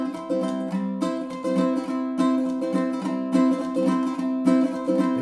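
Ukulele chords strummed quickly in a busy down-up pattern, dense bright strokes with accented beats, close and unaccompanied.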